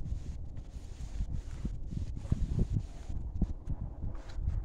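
Wind blowing outdoors on an overcast, warm day near ponies, a steady low rumbling buffet against the microphone with gusty swells, no talk.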